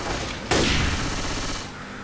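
Gunfire in Left 4 Dead 2 as players shoot zombies from a window, a sudden loud burst of rapid shots that sustains briefly then tapers, close and dominant with little else audible.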